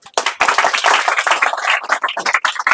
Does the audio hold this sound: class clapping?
yes